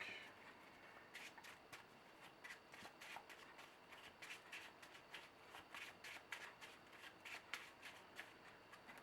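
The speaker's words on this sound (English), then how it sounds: "we're gonna shuffle the deck." A deck of cards is shuffled repeatedly, quick riffling bursts of crisp flutter one after another, close and clear with no talking.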